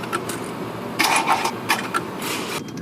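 Van engine cranking on a weak battery, a few uneven churning bursts of the starter turning over without catching, fairly close.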